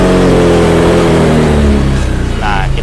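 A Honda Vario 150 scooter engine runs on its stand with the rear wheel spinning, giving a loud, close, steady motor drone that wavers as the throttle shifts slightly, with no talk over it.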